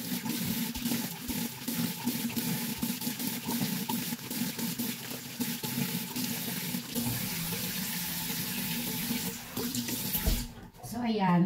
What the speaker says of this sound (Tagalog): wash na natin yung ating face